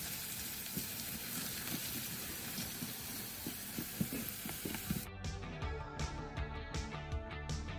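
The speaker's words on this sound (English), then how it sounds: "stir occasionally till it's well fried" Ground egusi seeds fry in a pot with a soft, steady sizzle and scraping stirs, then give way to a brighter, ringing layer of repeated clinks and taps toward the end, all quiet and without speech.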